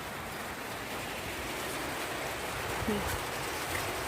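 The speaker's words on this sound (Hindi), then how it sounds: "और देखिए बारिश तेज़ हो गई" Steady heavy rain hisses over everything in a hill village, a dense, even patter with a faint thump or two partway through.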